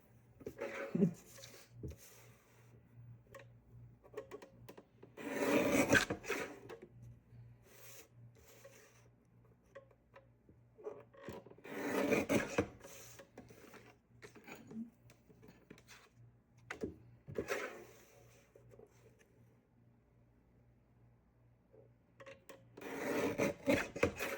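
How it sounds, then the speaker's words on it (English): Paper being cut into a narrow strip for a sketchbook spine, heard as quiet, close rasping strokes in several separate bursts with hushed pauses between them. "So I'll probably just cut a very narrow strip to do that."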